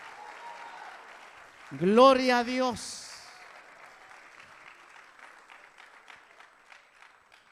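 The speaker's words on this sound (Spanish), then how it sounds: "Dele un aplauso fuerte al Señor." A church congregation applauds with sustained, scattered clapping that carries on at a moderate level after a voice briefly exclaims over it.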